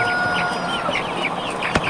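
A flock of chickens at a home coop clucks continuously nearby, many overlapping calls forming a busy, steady chatter.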